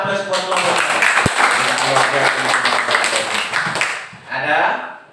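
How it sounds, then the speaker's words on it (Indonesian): A classroom gives group 1 a round of applause: dense, close clapping for about four seconds, with voices mixed in, then a brief final flurry. "berikan tepuk tangan aplaus buat kelompok 1"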